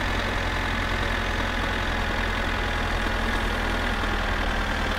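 A tractor engine in the My Summer Car video game runs continuously at a steady, loud, rumbling idle with no change over five seconds and no voices.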